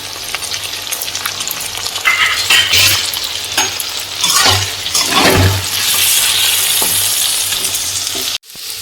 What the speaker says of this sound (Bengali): এবার একটু এটা ভেজে নেব